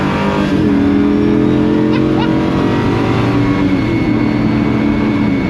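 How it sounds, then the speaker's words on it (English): LS V8-swapped Bowler Wildcat off-roader accelerating hard with wheels spinning for grip, a loud, steady engine roar filling the whole stretch, heard from inside or close by with little break. "It feels a bit odd as well, accelerating that hard in something that's so high up."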